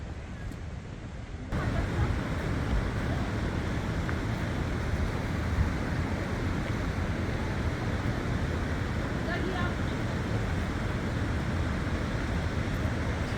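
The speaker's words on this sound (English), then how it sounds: "It's a not huge waterfall. It is about 9 meters high, rather wide." Bow Falls in Banff, a wide waterfall about 9 meters high, roars as a steady, dense broadband rush throughout, with no clear pauses; a quieter stretch opens the first moments before the full torrent.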